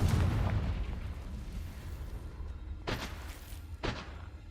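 A Confringo fire spell goes off in Hogwarts Legacy as a heavy booming blast that rumbles away, followed by two sharp bursting cracks from the game's combat, close and fairly loud with no voice over it.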